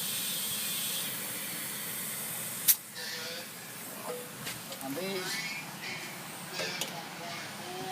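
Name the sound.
air hose inflating stump grinder tire to 32 PSI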